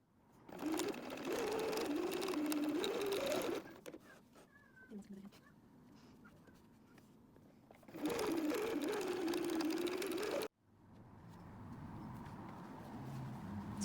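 Sewing machine stitching fabric for a bowl cozy, two long bursts of whirring motor separated by a quieter pause, close and steady.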